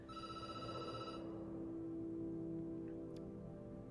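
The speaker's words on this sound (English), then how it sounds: "Phone rings." In the video game Night Call, a telephone bell rings steadily over a low ambient hum, moderately loud and continuous, with no talk over it.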